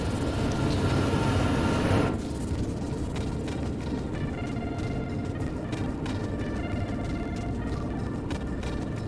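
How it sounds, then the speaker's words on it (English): Freight train hauling a long string of intermodal cars rolls past in Train Sim World 3, a loud steady rumble that drops slightly after a couple of seconds and carries on with rhythmic clacks and rattles. "here is a whole bunch of intermodal cars"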